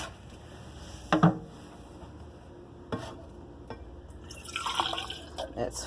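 Four ounces of liquid poured from one tumbler into another, with quiet trickling and dripping, a couple of sharp container knocks, and faint talk in the background.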